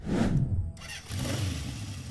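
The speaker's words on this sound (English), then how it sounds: "Honda CB750 Inline 4." A Honda CB750 inline-four motorcycle cranks over and catches, then settles into a loud, close, burbling idle after a brief revving burst.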